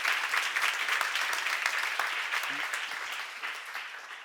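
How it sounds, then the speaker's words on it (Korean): Audience applause at a church seminar, a steady dense wash of many hands clapping throughout that eases slightly toward the end, with a brief voice breaking through partway. "박수 한번 주세요"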